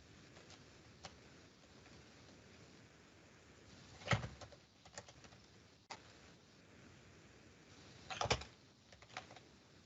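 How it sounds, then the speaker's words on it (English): Computer keyboard typing comes through an online user-group call as faint scattered clicks with two louder bursts of rapid keystrokes, over a low background hum. "is that you typing away?"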